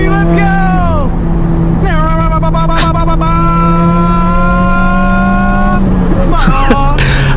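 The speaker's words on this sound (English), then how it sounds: "Let's get the downshift, baby." A Subaru WRX engine revs hard and drops through a downshift, rising and falling howls with sharp blips between gear changes, loud and close throughout, with a voice cutting in briefly.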